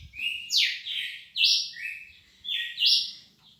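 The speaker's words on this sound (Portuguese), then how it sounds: "Passarinho com várias cantadas aí." A green-winged saltator songbird sings inside a cage, giving a close, clear series of rising and falling whistled phrases in a steady rhythm, with no other sounds.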